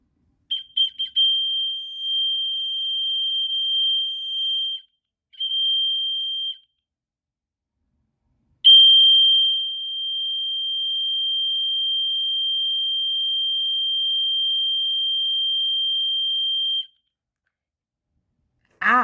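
A piercing steady electronic tone from a fire alarm powered by a 9-volt supply on a test bench, sounding in long unbroken stretches with brief gaps and stutters, loud and close, cutting off abruptly near the end.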